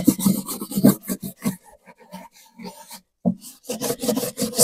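Lemongrass leaves are rubbed hard against a wooden bee box, giving close, rasping scrub strokes in quick repeated bursts, with a short quieter lull before the scrubbing picks up again.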